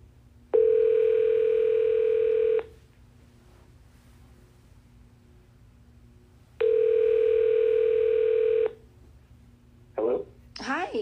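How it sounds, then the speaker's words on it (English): Two long, steady ringback tones sound while a call is placed to a florist, each about two seconds with a pause between, loud and close, followed by a brief burst of noise at the end. "We're dialing him up right now."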